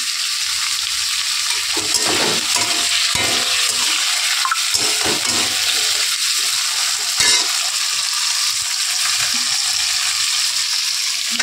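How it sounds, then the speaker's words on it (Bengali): Potato pieces frying in hot oil with salt, a steady close sizzle and crackle running throughout, with occasional stirring clatters and scrapes in the pan. "নুন দিয়ে আলুটা আগে ভেজে নেবো।"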